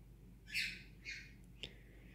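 A baby violet budgie gives three short, bright chirps, the first the loudest, heard up close against a quiet indoor room.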